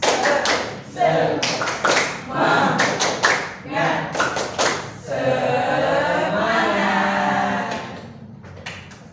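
A classroom of students performs a rhythmic spirit clap in sharp patterned bursts, interspersed with chanted voices and a long shouted cheer before the claps fade.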